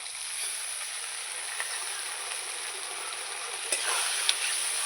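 Spice paste with a splash of water sizzling steadily in a pan for a fish curry, an even close frying hiss with a couple of faint scrapes and clicks from stirring.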